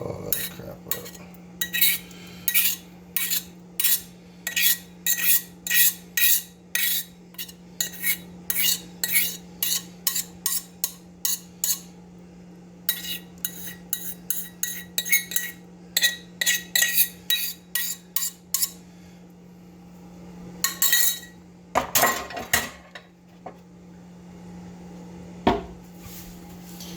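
A spoon scrapes and clinks against a pot in a rapid series of sharp metallic taps and strokes, pausing and resuming, with a few heavier knocks near the end over a low steady hum.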